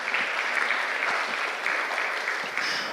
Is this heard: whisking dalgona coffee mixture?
no